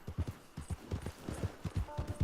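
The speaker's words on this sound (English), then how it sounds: "we are on a horse riding around the town looking for some problems" Horse hooves clip-clopping at a steady trotting rhythm while riding through a town in Red Dead Redemption 2, close and clear with a light background.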